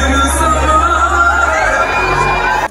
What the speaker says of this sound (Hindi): देखिए एकदम शो में किस तरह हंगामा मच चुका है